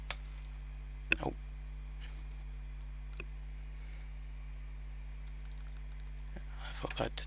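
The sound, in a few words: typing on computer keyboard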